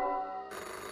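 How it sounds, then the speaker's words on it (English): Telephone ringing in the video game VHS 1986: a steady electronic ring tone that changes to a brighter, buzzier timbre halfway through, loud and alone with no talk. "Oh, we have a phone call again."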